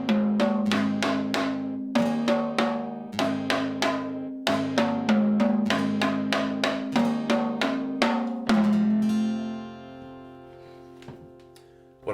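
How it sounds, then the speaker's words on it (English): Tuned rototoms playing a short melody: bright, ringing tonal drum strikes in a quick rhythmic pattern with shifting pitches, close and clear, ending on a held ringing note that fades out. "So if we play it on the rototoms, it would sound like this."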